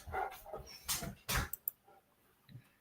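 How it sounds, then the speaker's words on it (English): Dogs barking indoors at moderate distance: several sharp woofs in an irregular burst, a couple of short yips, then a final softer bark after a pause. "The dogs are gonna bark right in the middle, just right on cue."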